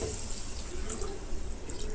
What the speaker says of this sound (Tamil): இப்போ இதில் கரைச்சி வச்சுருக்க புளி தண்ணியை சேர்த்துக்கலாம்